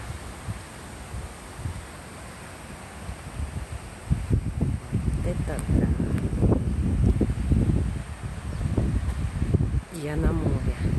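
Wind blowing along the shore of the Ob Sea, a reservoir near Novosibirsk, as a low steady rumble and buffeting, with stronger gusts and microphone noise growing louder in the second half.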